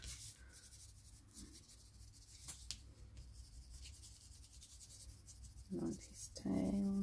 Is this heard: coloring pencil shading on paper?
yes